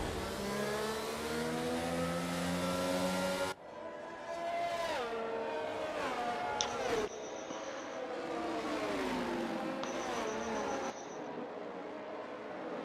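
Racing cars lap Monaco in dry conditions at the start of a 39-lap race in a racing video game. Their engines whine loudly, sweeping up and down in pitch as cars shift and pass one after another.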